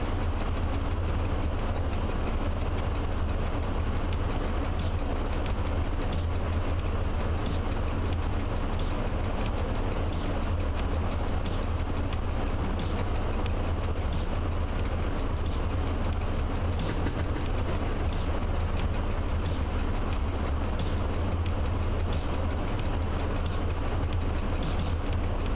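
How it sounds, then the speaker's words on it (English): A train in the video game Train Driver 2 slows down with a steady, continuous low rumble and rail noise that stays even throughout, with no voices. "So it's even better that my train is slowing down."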